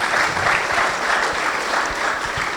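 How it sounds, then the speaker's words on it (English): An audience at a fireside conversation during the Africa Cinema Summit 2024 breaks into sustained applause, loud and continuous throughout, with a faint murmur of voices mixed into the clapping. "Round of applause again"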